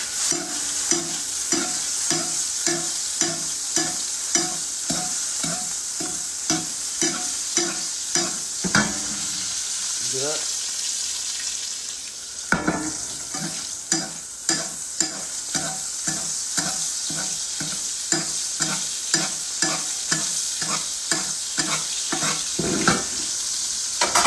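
A ribeye steak sizzles steadily in a hot pan while being basted, with rhythmic scraping and spoon-splash bursts repeating through the sizzle and a brief lull midway, close and fairly loud with no talking.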